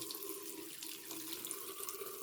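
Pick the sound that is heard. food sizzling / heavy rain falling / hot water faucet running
hot water faucet running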